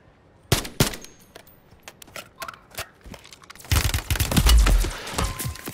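Gunfire in Call of Duty Warzone 3 during an intense match, with scattered sharp single shots followed by a dense, loud burst of rapid automatic fire and impacts.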